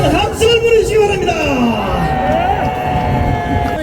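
A large crowd at an outdoor political rally in Gwanghwamun, Seoul, against a presidential impeachment, roars with sustained shouting and cheering, loud and dense, with a voice over a public address system mixed in.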